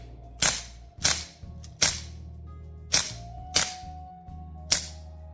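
Six sharp shots from a replica 9mm Glock being mag dumped, fired in an irregular burst with a short gap between each crack, loud and close over a steady low hum.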